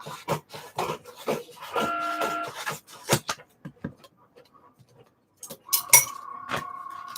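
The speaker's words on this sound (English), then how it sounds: "the cutting machine gets done cutting" Cutting machine working through material for glasses making, brief motorized whirring passes interrupted by sharp clicks, clinks and quiet gaps, close and fairly loud.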